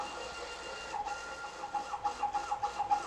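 Stepper motors on a 3D printer driving fast travel moves at 150 mm per second, giving a steady whine with rising, pulsing tones in repeated bursts.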